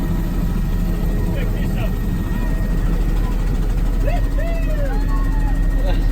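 A helicopter flies overhead at the Goodwood Festival of Speed, its loud continuous rotor thrum and engine roar filling the scene without letup.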